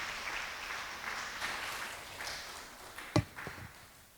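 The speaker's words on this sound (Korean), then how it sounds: "여러분 박수로 발표를 부탁드리겠습니다." Sustained audience applause fills a hall at a memorial academic conference marking the second anniversary of a senior Buddhist master's death, steady and moderately loud, with a couple of sharper claps near the end.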